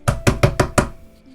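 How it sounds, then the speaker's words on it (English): Five sharp knocks on a door in quick, even succession, loud and close, then a short quiet tail; a sound effect during a Genshin Impact themed tabletop role-playing session. "you hear another knocking at the door."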